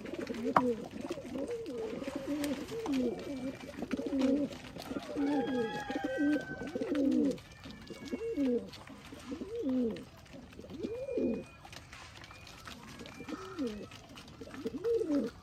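Pigeons coo close by in repeated, rhythmic throaty phrases, with a few faint chirps from other birds in the background.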